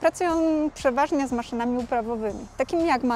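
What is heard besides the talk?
No everyday noises stand out.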